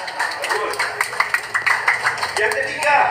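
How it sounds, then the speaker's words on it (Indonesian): An audience claps its hands at a Lebaran gathering. Scattered, irregular claps rise in uneven bursts for about three seconds, mixed with voices in the room. "Boleh tepuk tangan?"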